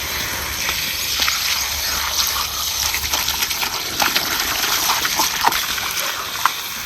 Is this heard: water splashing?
yes